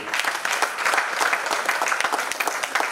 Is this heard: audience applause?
yes